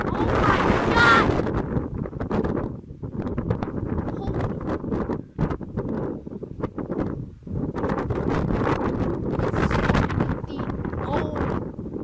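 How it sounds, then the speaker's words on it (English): Strong gusting wind roars and buffets the microphone outdoors just before a thunderstorm, loud and continuous with brief lulls, while people exclaim over it. "So windy."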